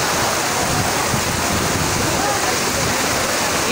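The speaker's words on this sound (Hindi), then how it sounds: "देखें पानी की स्पीड" Fast floodwater rushes along Shahrah-e-Faisal road in Karachi, a loud, steady roar of churning water that holds constant the whole time, with no pause or letup.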